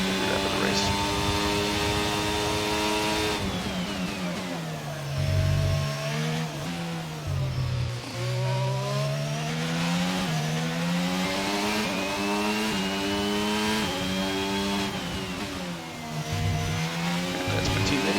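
Formula 1 car engine in the racing game F1 22 at the Canadian Grand Prix, loud and continuous, rising and falling in pitch through repeated gear shifts and revving with brief dips, faint voice beneath.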